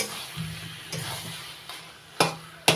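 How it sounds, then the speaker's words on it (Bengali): Taro leaves and prawns being stirred in a pan over low heat, soft scraping strokes repeating every second or so under a faint sizzle, with a few sharp clinks of the spoon against the pan. "একটু জ্বালাবো জ্বালিয়ে নাড়িয়ে চালিয়ে জলটা শুকিয়ে নেব"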